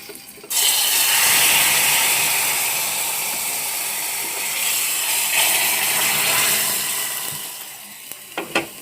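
A hot tempering is poured into a taro buttermilk curry, giving a loud sudden sizzle that crackles on and slowly fades over several seconds. A few clinks sound at the end.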